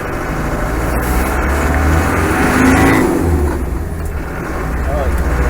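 Car engine running steadily on a road during a test drive on a cloudy afternoon, a continuous close rumble that swells briefly mid-clip, with a voice talking over it.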